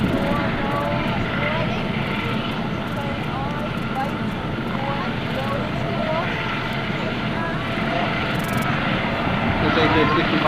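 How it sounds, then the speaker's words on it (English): A Coast Guard HH-65 Dauphin helicopter from Air Station Atlantic City approaches at an airshow, its steady loud rotor and engine drone continuous beneath crowd noise and chatter. "HH-65 Dauphin helicopter is from the Coast Guard Air Station, Atlantic City. It's approaching the scene of search and rescue."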